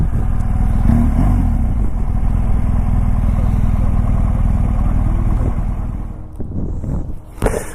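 A 2019 Triumph Tiger 1200 motorcycle engine rumbles loudly and close, with wind buffeting and exhaust popping, then the revs drop off near the end.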